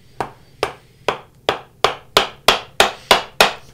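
A chisel is pounded with a mallet into wood to cut a corner bridle joint by hand: nine or ten evenly spaced, sharp woody knocks in a steady rhythm, close and clear with no talk.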